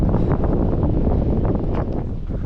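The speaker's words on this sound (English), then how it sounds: "It's windy up here." Strong wind on an Appalachian Trail mountain top buffets and roars across the microphone in heavy gusts, loud and close, with no clear voices.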